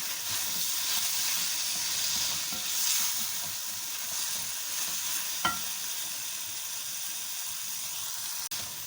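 Finely chopped ginger sizzles and fries in a pan with a steady, soft hiss, broken by a couple of brief clinks from stirring.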